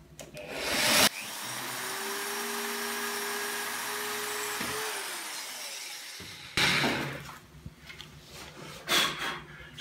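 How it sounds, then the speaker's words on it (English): A power drill with a steel bit whines steadily for several seconds drilling a hole in a steel server rack rail, then stops; rattling and handling noises come before and after the drilling. "A steel bit, or a bit for drilling steel metal"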